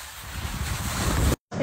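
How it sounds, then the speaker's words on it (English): Wind blowing on a ski bunny hill, a loud steady rush battering the microphone before cutting out for a moment and returning. "It's so windy."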